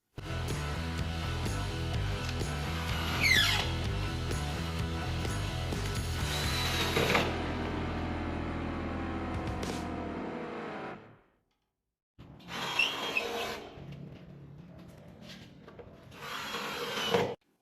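Two microwave transformers being fastened onto a wooden base: close, continuous scraping and ratcheting of a hand tool driving screws into wood, then a brief pause followed by short bursts of rubbing and rasping.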